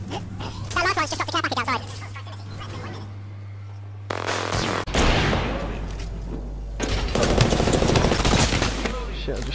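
Apex Legends gunfire in heavy bursts of rapid automatic shots and booming impacts, loud and close, mixed with game music and effects while players talk over it in team chat.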